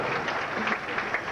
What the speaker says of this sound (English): The crowd is yelling juice, juice, juice